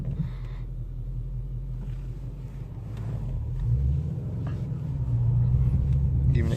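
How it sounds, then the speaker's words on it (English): Interior view of a 2017 Ford Shelby GT350 with its active exhaust valves shut: a steady, subdued low engine drone with muffled rumble that swells slightly toward the end, with no talking. "our active exhaust valves are currently shut off."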